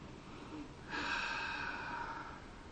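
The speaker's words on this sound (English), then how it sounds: "Let's go ahead and take a sniff and see what we think about the aroma." Someone takes a long nasal sniff of a brown ale in a glass, one drawn-out breathy inhale close to the ear, preceded by quiet background.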